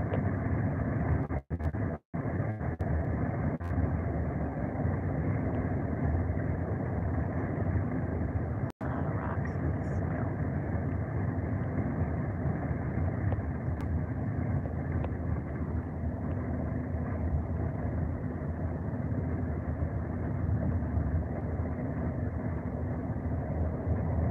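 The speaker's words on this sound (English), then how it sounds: "trucks, big trucks going down this road, and you're trying to sleep, and these giant trucks are going down the road" Big trucks roll past on a road in Mexico. A steady, low, broad roar of passing traffic is heard at moderate distance, with a few brief clicks and dropouts.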